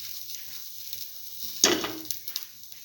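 Ginger and garlic dropped into a hot pan, a sudden sharp sizzle that flares up and tapers off over about a second, with faint stirring scrapes afterward.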